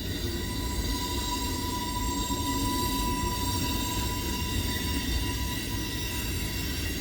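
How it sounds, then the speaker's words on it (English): Freight train rolling past a junction with boxcars, including a GATX box and food cars, a steady continuous rumble of wheels on rail with a faint sustained squeal riding over it, close and loud throughout. "Hey, that train has food cars in it."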